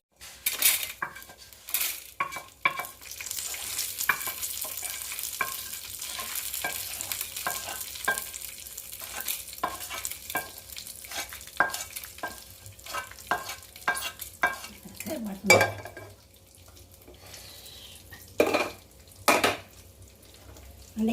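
Ingredients frying in a little oil in a pan for nalleru pachadi, with a steady soft sizzle under repeated sharp scrapes and clinks of a spatula against the metal, close by.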